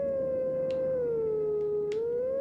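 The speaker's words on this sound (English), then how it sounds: "because just the howling itself doesn't sound as obvious" A wolf howls a melody in the video game Twilight Princess, one long sustained tone sliding gently down then back up, loud and clear over soft game background, with a few faint clicks along the way.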